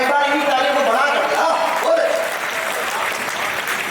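Dense audience applause fills a large poetry gathering at a religious fair, with a voice carrying over the clapping for the first couple of seconds before the applause continues alone.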